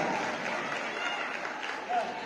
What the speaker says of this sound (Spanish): Fuerte el aplauso para Paco